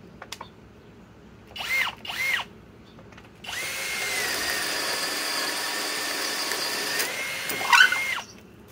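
A Menards Master Force Boost hammer drill rated 800 inch-pounds and a Ryobi hammer drill bore at speed one, short whirring bursts followed by a sustained loud, close grinding run of a few seconds, then another brief burst.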